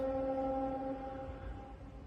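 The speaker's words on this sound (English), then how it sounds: "video of sirens going off in Japan" Civil defense sirens sounding in Japan, a steady tonal wail held loud at first and then fading and thinning over about two seconds, with no voices.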